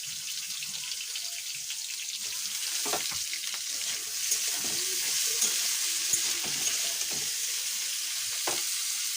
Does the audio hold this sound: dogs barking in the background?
no